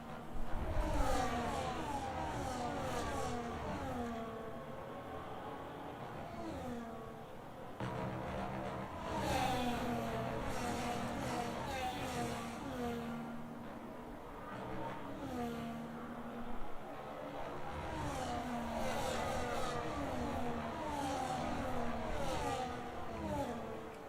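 Formula 1 cars, including Ferrari and Alpine, racing in the F1 25 video game, with high engine whines rising and falling through gear changes as cars pass and accelerate continuously, steady and moderately loud with no voices.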